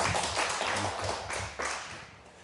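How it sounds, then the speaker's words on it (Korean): A church congregation claps together in a brief, loud burst of many hands with uneven pulses, fading after a couple of seconds. "여러분 박수 한번 쳐드려야 돼요."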